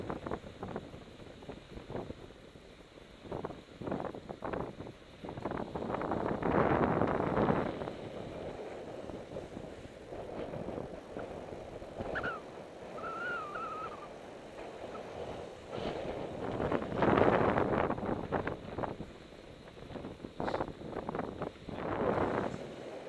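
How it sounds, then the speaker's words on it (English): Gusty wind blows across an open slope while a micro slope glider is flown, roaring and buffeting the microphone in surges that swell and fade, with a brief faint chirp midway and no voices. "Lots of wind today."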